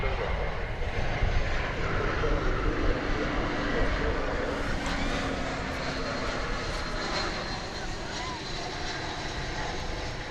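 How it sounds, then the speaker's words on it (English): An Airbus A321 on an American flight from San Francisco arrives at DFW Airport, its jet engines a steady, fairly loud roar that holds for several seconds before easing slightly, with a voice talking under the noise. "It's American Flight 2904 coming in from the city adjacent to the bay, San Francisco, on an Airbus A321."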